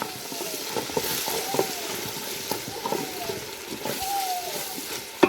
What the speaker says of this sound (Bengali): দেব রসুন বাটা কাঁচামরিচ আদা বাটা একসাথে মেরে নেব